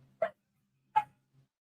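Two sharp barks from dogs, each a short isolated yelp, a fraction of a second apart, with a faint third sound after them in an otherwise quiet room.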